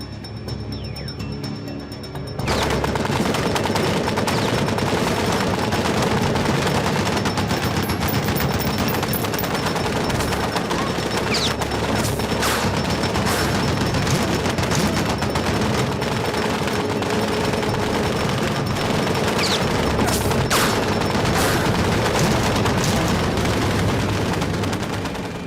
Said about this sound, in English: Jim's men decided to attack the lone sniper with a heavy machine gun.